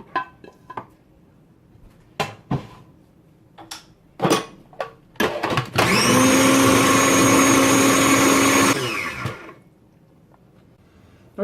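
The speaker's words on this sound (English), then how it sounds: "Just going to add it to the food processor, blend it up." After a few clatters and knocks, a food processor blending cooked pizza sauce runs loud and steady for about three seconds, a whirring motor close by, then stops.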